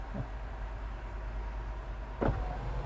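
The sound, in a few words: Mahindra XUV700 electric sunroof opening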